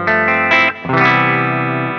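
Clean chords from a Music Man Cutlass RS electric guitar on its humbucker pickup through a Soldano 88R preamp model, two bright ringing strums with a brief gap, the second sustaining and slowly fading.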